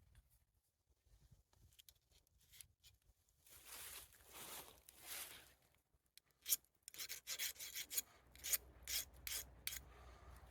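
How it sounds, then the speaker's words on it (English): A magnesium fire starter block scraped with a blade, giving quiet, rasping strokes that come in short irregular bursts and grow busier toward the end, heard close up without talk. "I want to scrape that off."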